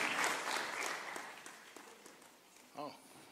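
A church congregation claps and cheers in a burst that fades over a few seconds, with a voice rising briefly at the end.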